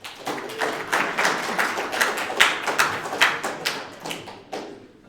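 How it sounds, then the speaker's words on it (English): Students in a computer science lecture hall applaud at the end of class, a few seconds of scattered, fairly close hand clapping that swells and then tapers off. "You can clap"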